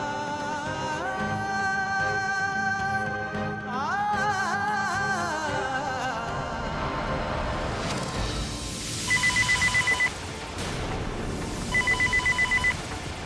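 A telephone rings in two short bursts of repeated electronic trills near the end, rising over soft dramatic background music that plays throughout.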